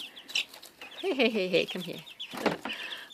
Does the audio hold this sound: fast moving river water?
no